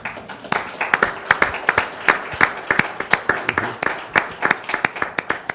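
Audience applause closes a panel discussion on cultural diplomacy and business, a dense, steady clapping from a crowd that fills the room at close range with no talk over it.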